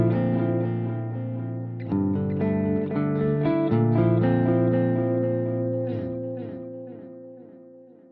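An electric guitar plays a melodic phrase through a delay pedal set to a 50% mix, its repeats blending evenly with the dry notes. The sound is loud and sustained, and the echoes ring out and fade over several seconds.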